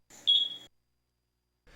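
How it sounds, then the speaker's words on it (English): A single short electronic beep from the M7 power module of an MSA FireHawk M7 breathing apparatus, high and clear, followed by a brief faint blip at the end; otherwise quiet. "press and hold the mode button until the M7 power module beeps"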